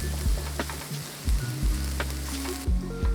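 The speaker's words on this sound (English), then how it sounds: "Now I'm gonna combine this tomato paste and I'm gonna cook that up for about 2 minutes or so." Browned beef and tomato paste sizzle steadily in a pan for a Greek pastitsio, a close, continuous crackling fry with a few soft thumps of stirring scattered through.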